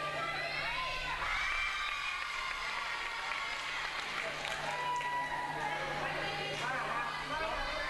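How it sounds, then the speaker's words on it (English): A large indoor crowd at a high school volleyball game cheers and shouts continuously, with whoops and excited voices layered over a steady roar and a low hum underneath. "both teams getting support from the crowd here. You can hear the cheering."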